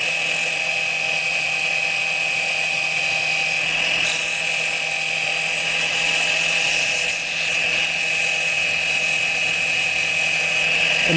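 A Zhengrui ZRCC04060 mini lathe spins at a constant high-pitched whine while a wooden workpiece is sanded, the steady motor drone loud and unbroken with a faint scratchy hiss layered on top.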